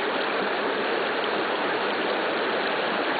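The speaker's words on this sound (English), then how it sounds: "Now, the whole seep's not covered. It's still bubbling all around it." Gas seep bubbling up through water in a shale gas area, a steady continuous wash of bubbling and gurgling that stays even and fairly loud throughout, with no voices.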